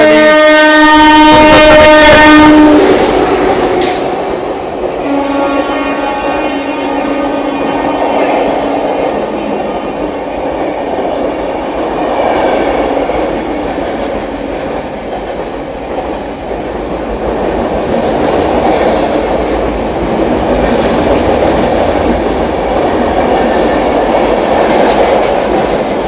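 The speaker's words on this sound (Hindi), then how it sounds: "ये गई दोस्तों पूरी आनंद विहार पुरुषोत्तम एक्सप्रेस" The Puri–Anand Vihar Purushottam Express passes on Indian railway track, opening with a loud horn blast, then a long, steady roar of coaches and clattering wheels that slowly fades.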